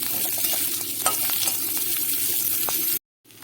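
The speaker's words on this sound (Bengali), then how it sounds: "আলুগুলো বেশ ভালো করে পেঁয়াজের সঙ্গে ভেজে নেব" Potatoes fry with onions in a pan, giving a continuous close sizzle marked by light scraping stirs, then a brief cut to silence before the frying hiss resumes.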